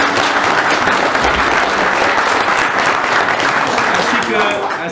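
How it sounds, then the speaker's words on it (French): Audience applause at a farmers' New Year greeting event in Comines-Warneton, a dense, steady roar of many hands clapping close and loud for the full length, with speech briefly overlapping. "Vous pouvez applaudir."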